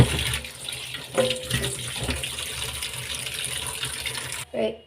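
Drumsticks being rinsed under a running kitchen tap, a steady splashing water stream with brief clatters of handling, cutting off abruptly near the end.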